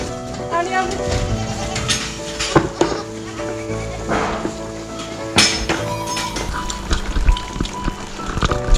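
Goats bleating in a barn pen holding about twenty pregnant does, several loud overlapping bleats amid metallic clinks and bangs, with a person talking intermittently.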